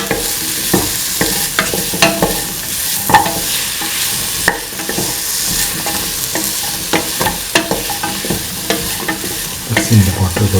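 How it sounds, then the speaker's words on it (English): Bottle gourd pieces are stirred and sautéed in a pan, with steady frying sizzle and repeated scraping strokes of the utensil throughout, up close and fairly loud with no talking. "Mix in the bottle gourd pieces."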